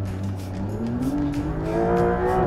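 A Porsche 911 Dakar's flat-six engine climbs steadily in pitch during a rally launch with wheel spin on dirt, loud and near, with rising revs and gritty tire noise and no talking.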